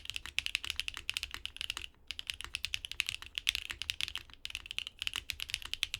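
Steady typing on a plateless Neo 80 mechanical keyboard, close and fairly muted, with rapid keystrokes broken by two short pauses.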